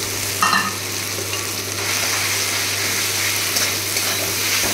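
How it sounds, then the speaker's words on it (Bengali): Ginger and garlic frying in a pan: a loud, continuous crackling sizzle, close up, with a few stirring scrapes early on and a low steady hum underneath, and no speech. "আদা রসুন দিয়ে দিয়ে এটা ভেজে নিচ্ছি একটু"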